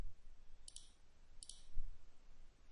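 Two sharp computer mouse clicks, each a quick double tap, sound close and quiet against a faint hum as edges are selected in CAD software.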